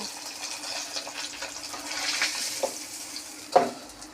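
Yogurt-marinated catla fish pieces fry in oil with a soft, continuous sizzle and a faint watery bubbling, ending with a brief clink near the close; nobody speaks.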